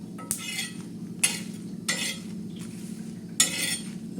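Dried red chillies dry-roasting in a pan for a flaxseed chutney are stirred and turned over, giving about five sharp, scraping rattles close by over a low steady hum, with no voices.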